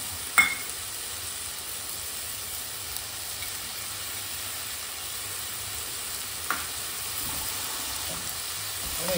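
Jaggery going into roasted, half-cooked pumpkin in a hot pan, giving a steady soft sizzle throughout with a couple of brief clinks of a utensil.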